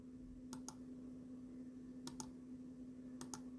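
Three quick pairs of soft mouse clicks, evenly spaced, come from drawing with the pen tool in Adobe Illustrator, faint and close over a steady electrical hum.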